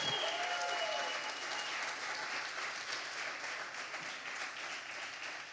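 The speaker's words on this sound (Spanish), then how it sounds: "Si vas a aplaudir al Espíritu de Dios, dalo con todas tus fuerzas." A church congregation applauds vigorously, a dense, even wash of clapping that holds steady across the whole stretch, with a few voices faintly mixed in.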